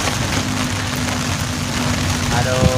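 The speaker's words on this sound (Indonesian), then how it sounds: "Ini udah hujan nih, pasang nih terpal." Rain pours steadily on a beach at Pelabuhan Ratu, a dense, even hiss on surfaces that runs through the whole stretch while people talk nearby.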